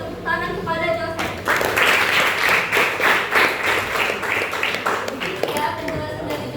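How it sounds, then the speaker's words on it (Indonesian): Classroom applause rings out in broadband clapping for a student named Joseph, running several seconds with talk at the start and end. "Berikan tepuk tangan kepada Joseph"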